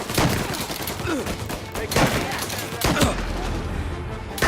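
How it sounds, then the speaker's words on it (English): Several bursts of gunfire in the Mafia: Definitive Edition video game, sharp cracks spaced about a second apart over a busy, noisy mix, with some voices nearby. "Reports of gunshots."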